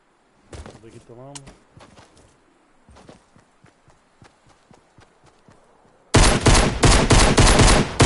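Pistol gunfire in a PS4 shooter game, sharp single shots popping out at an uneven pace amid quieter game sounds, then a dense, loud burst of rapid fire fills the last couple of seconds.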